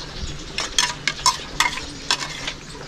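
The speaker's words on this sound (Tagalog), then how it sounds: "Haluin mo sa mangkok mo ha." A seasoned corn mixture being stirred in a bowl, giving a string of close, brisk scraping and clinking strokes in uneven bursts with no voices.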